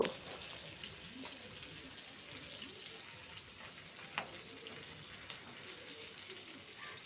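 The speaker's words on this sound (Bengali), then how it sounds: "মাছটা কিন্তু লাল লাল করে ভাজা হয়ে গেছে।" Fish full of roe frying in hot oil until reddish-brown, a faint, steady sizzle running throughout with a few soft crackles and spatters, no talking.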